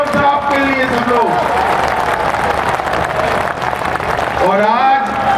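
A large crowd at an election rally in Deotalab, Madhya Pradesh, applauds for a candidate: loud, dense, sustained clapping with some cheering, and a voice over the PA breaking in near the start and end.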